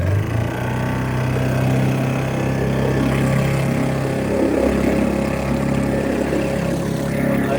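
A boat engine drones steadily and loudly, a continuous low rumble with no pauses from start to finish.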